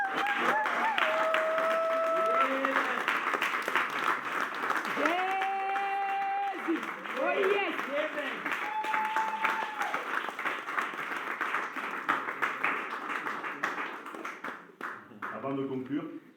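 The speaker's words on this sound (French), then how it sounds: "félicitations parce qu'on peut encore les applaudir." Wedding guests at the town hall clapping for the couple in a sustained round of applause, with people talking and calling out over it throughout before it fades near the end.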